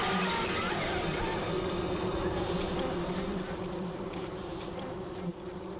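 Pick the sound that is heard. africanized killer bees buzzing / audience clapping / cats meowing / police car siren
africanized killer bees buzzing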